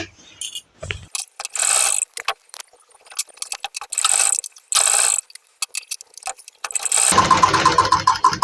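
A sewing machine stitches a double seam on a kameez in repeated short bursts of high, clattering whir broken by quiet gaps, ending in a longer, fuller mechanical rattle.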